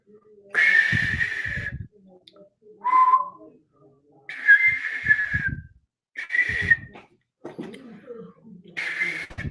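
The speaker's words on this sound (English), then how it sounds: "it's been a while since I've whistled" A person whistles short tuneful phrases in several bursts separated by pauses, with breathy low sounds between them, close and fairly loud.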